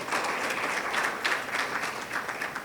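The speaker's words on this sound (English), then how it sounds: "Can we give him another round of applause" Audience applause at a payments platform workshop, a steady even wash of clapping from a room of attendees that holds for the full stretch without any speech over it.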